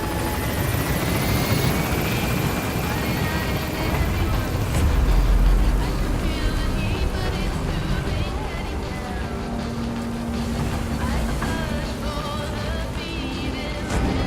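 The Pequod helicopter from the game Metal Gear Solid V flies and gains altitude, a loud and steady rotor and engine roar that fills the whole stretch with a broad, unbroken wash of noise.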